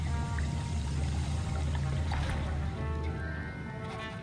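Liquid sloshes and trickles continuously as a potion is brewed and stirred in the Hogwarts Legacy video game, a close, steady watery churn that fades slightly at the end.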